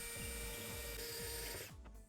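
A power drill with a step bit bores 1/2-inch holes in a Toyota Tacoma bed during a stainless steel bed stiffener install. It gives a quiet, steady motor whine that cuts off abruptly near the end.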